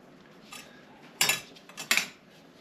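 A spoon scrapes and clinks in a bowl while artichokes are mixed into a seafood dip, a few soft stirs then two sharper metallic knocks, close and without speech.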